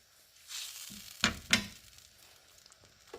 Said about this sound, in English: And we're going to let it simmer until it starts to become thick.